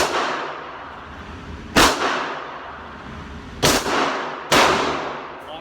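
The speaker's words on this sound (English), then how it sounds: "I'm going to fire 2 rounds, and I'm going to do a reload" A pistol fires sharp, loud shots outdoors, each ringing off with a decaying tail; three distinct reports stand out, the last two closer together.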